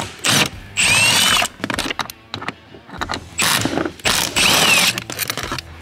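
A ratchet undoing two 10mm bolts beneath a car's bonnet latch lever, heard close and loud as bursts of rapid clicking separated by short pauses.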